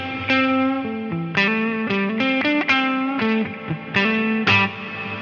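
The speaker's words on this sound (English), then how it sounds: "we hear the notes kind of ducking the reverb so it's quiet while we play, and then the reverb comes in stronger after" Guitar notes played through a ducking reverb on a Line 6 Helix, a series of plucked and strummed notes, up close and clear, with the reverb held quiet while notes sound and swelling between them; no talking.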